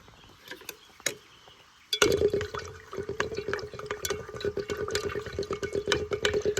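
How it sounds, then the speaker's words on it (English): A coiled zinc strip reacting in hydrochloric acid gives a steady fizzing crackle of many tiny bubbles, quiet and close, starting abruptly after a near-silent opening. "I coiled the zinc strip up, and you can see we've got a semi-vigorous reaction"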